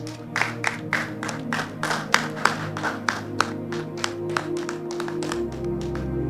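An audience in a church Easter Sunday gathering claps to welcome guests, steady applause with sharp individual claps standing out, fairly close and continuing for several seconds.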